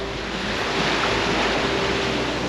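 Rough surf breaks along the shore at Funauki on Iriomote Island, a loud, continuous wash of churning water with wind buffeting close to the microphone and no voices.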